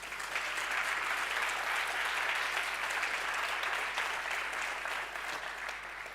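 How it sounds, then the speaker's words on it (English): Applause from the audience at the ARIA 2023 Awards ceremony for the finalists in a category, a broad, even wash of many people clapping, fairly faint and distant, continuing steadily without talk. "A round of applause for them again, please."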